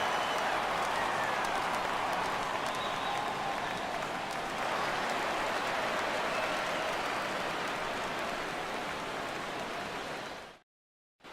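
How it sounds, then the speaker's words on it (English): A home crowd in the baseball video game MLB The Show 17 gives a sustained ovation, a dense wash of applause and cheering that stays loud and steady throughout before cutting off abruptly near the end. "So he receives a nice ovation from this home crowd, departing after surrendering just one earned run."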